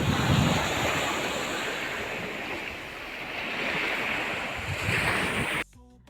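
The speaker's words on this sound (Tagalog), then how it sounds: "lumakas yung alon" Steady roar of strong sea waves breaking and washing continuously off Banton, Romblon, Philippines, mixed with wind buffeting the microphone, loud and close, ending abruptly.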